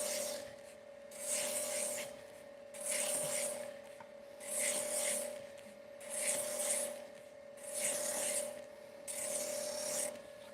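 A workpiece is pressed against a running belt sander in five separate passes, each a loud rasping grind lasting about a second and a half, over the steady hum of the motor.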